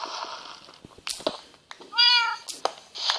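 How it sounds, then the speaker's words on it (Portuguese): A cat in the Minecraft video game gives several short meows, with clicks and game noises between them, while a person talks quietly in the background. "Ai, gato que não fica quieto."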